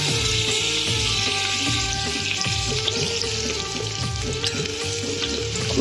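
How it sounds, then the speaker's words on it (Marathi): Crushed garlic frying in hot oil, giving a steady close sizzle that runs unbroken throughout, with faint stirring and clinking underneath. "हा लसूण चेचलेला आहे तो आपण टाकणार आहोत"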